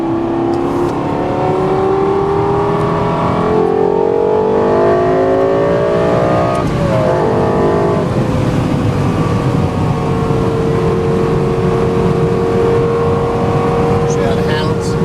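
Lexus LFA V10 supercar accelerating hard on the road, its engine note climbing and shifting through rising harmonic sweeps, loud and close throughout with steady road and wind roar underneath.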